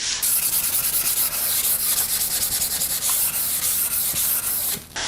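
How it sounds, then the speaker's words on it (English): Continuous scratchy rubbing of sandpaper on a small sanding block over planed wood, close and steady, with quick strokes blending into one constant hiss. "all it takes is a few wipes with this little sanding block and a sharp piece of sandpaper"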